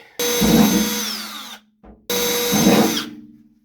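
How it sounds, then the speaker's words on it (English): Two bursts of a power drill spinning up and boring hinge holes for a roof vent on a Subaru WRX wagon, each about a second and a half, close and loud with a short pause between. "I got 2 more hinge holes to drill real quick."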